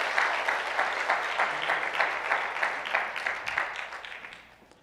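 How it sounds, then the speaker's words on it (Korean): A church congregation applauding warmly to welcome newly baptized children and members, with brisk, even clapping from many hands that rises in waves and fades out near the end. "여러분 뜨거운 박수로 환영해 주시기 바랍니다"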